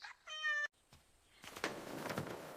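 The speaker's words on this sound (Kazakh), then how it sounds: "Сәлем, сен қайдан жүрген мысықсың?" A cartoon cat gives one clear, tuneful meow up close, followed by a few soft clicks and a stretch of low rustling noise.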